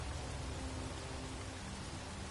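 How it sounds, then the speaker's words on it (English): Steady rain falling outdoors on a foggy day, a faint, even hiss throughout with no distinct drops or voices. "it is really foggy and rainy and miserable out."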